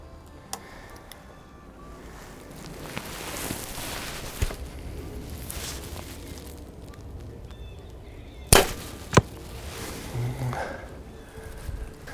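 A Backyard Bows Xpedition XLite 29 bow is shot at a kicking-buck target from 45 yards outdoors, giving a sharp snap of release followed about half a second later by a second crisp impact, over soft wind noise.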